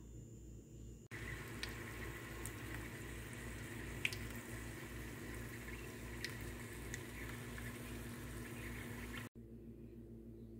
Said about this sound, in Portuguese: Terminei de fritar os risoles, pessoal.